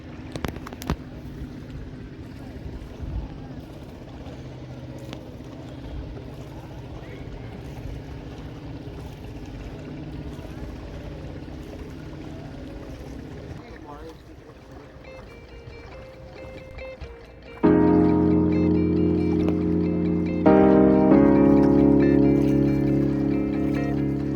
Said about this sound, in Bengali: এই বোট এবার সামনে একটা ঘাট আছে, সেই ঘাটে নামাবে।